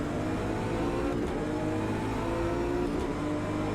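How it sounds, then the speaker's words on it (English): A BMW six-cylinder turbo engine in the racing game Automobilista 2, a loud continuous mid-range drone of the motor under load, steady throughout with no speech. "this BMW with its 6-cylinder turbo engine has a lot of mid-range torque here"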